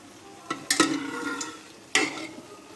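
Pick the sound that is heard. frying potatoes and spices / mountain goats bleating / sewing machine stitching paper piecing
frying potatoes and spices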